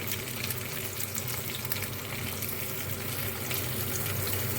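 Water is added to flat beans frying in oil in a pan, giving a dense, even hiss of sizzling and bubbling liquid that stays steady for several seconds.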